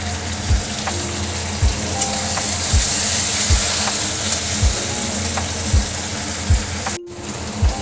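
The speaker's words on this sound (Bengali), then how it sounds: "টমেটো কুচিগুলো দিয়ে দিয়েছি" Chopped tomatoes and onions fry in hot oil with a constant close sizzle, broken by a regular rhythm of spoon scrapes as the pan is stirred.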